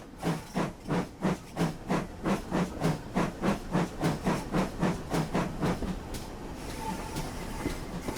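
A pannier tank steam locomotive chuffs in a steady, rapid rhythm of hissing exhaust beats, fairly close, then the beats fade into a softer rumbling hiss as it moves off.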